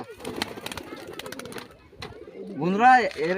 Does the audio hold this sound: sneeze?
no